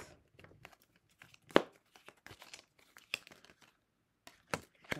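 Sharp papery rustles and snaps as a card is slid out and drawn from a deck, several short crisp bursts separated by quiet gaps, close by.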